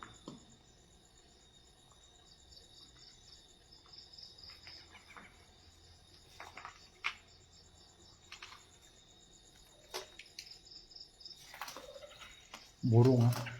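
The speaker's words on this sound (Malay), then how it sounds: "Burung." Crickets chirr steadily outside on the balcony of a former house in Lipis, with occasional faint bird calls. A louder thump or bump comes near the end, and a voice may be heard faintly.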